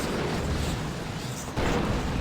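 Heavy cannon fire from a Baneblade super-heavy tank in Dawn of War 2 rumbles steadily, a dense booming barrage with a fresh loud blast near the end.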